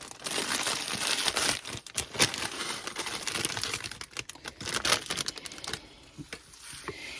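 Smashed potato chips spill into a pot for potato chip candy, a dense run of crinkly, crunchy rattles and skittering bits close by that fade toward the end.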